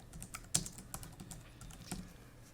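Code is typed on a computer keyboard, with soft, quick, irregular keystrokes and one sharper clack, fairly quiet and with no talking.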